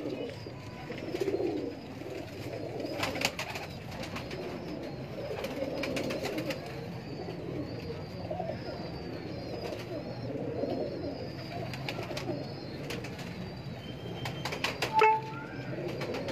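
Golden pigeons at a Lahore breeder's loft coo in low, continuous rolling calls, several birds overlapping, with occasional chirps, faint background voices and a brief sharp tone near the end.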